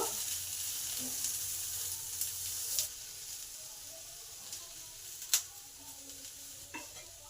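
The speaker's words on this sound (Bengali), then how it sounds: "ঢাকা চাপা দিয়ে অল্প তেলে ভালো করে ভেজে নেব" Eggplant pieces sizzle in a little oil in a covered pan, a steady soft hiss with occasional clinks and stirring taps, close and moderately loud.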